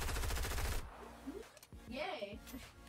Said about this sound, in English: And I hear gunfire already.